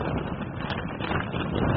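Strong wind gusting against a tent high on Aconcagua, a loud, steady roar with buffeting pulses right at the microphone, no voices.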